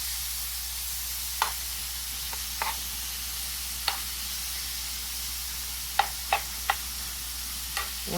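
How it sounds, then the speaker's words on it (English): Boneless chicken nuggets sizzle in hot avocado oil poured into a preheated pan, a steady broadband frying hiss broken by scattered sharp pops and crackles, close and alone. "It's definitely hot. You can hear it sizzling."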